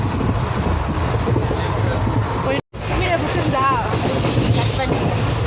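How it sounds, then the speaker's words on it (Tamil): A passenger train travelling to Kanyakumari rumbles and rattles steadily, with a brief dropout midway and faint chatter from people in the carriage over the running noise. "நாங்கள் இப்போது கன்னியாகுமரிக்காக ட்ரெயினில் போயிட்டுருக்கோம்"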